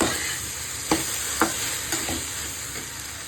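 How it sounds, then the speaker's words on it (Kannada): Chopped okra with salt frying for chutney, a continuous close sizzle with a few sharp scrapes of a spatula against the pan and no speech. "ಉಪ್ಪು ಹಾಕಿ ಫ್ರೈ ಮಾಡ್ತೀನಿ"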